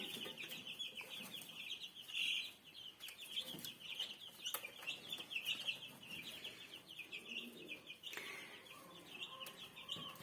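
Chicks cheep in a steady, high-pitched chatter around a small metal heating house, fairly quiet, with occasional clucks and soft background noise.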